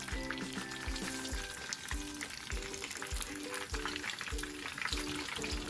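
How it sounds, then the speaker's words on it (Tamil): Masala fish fries in a pan with a dense, continuous close-up sizzle, while rhythmic music pulses steadily underneath. "மீனை திருப்பி போட்டு மறுபடியும் 5 நிமிஷம் ஆனதும் மீன் ரெடி ஆயிடும்."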